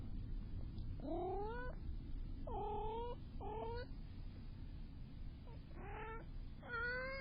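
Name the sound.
cat meowing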